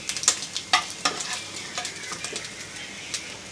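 Food frying in hot oil, a steady broadband sizzle and crackle with sharp spatula clicks and scrapes against the pan near the start, continuing evenly without any talk.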